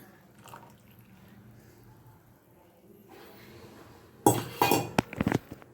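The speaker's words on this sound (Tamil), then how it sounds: "நம்ம எடுத்து வச்ச அந்த தேங்காய் பாலை ஊற்றுறேன்" Coconut milk goes into a pot of Chettinad fish curry: after a quiet stretch of faint kitchen noise, a loud burst of metallic clinks and liquid splashing comes near the end, close and sharp.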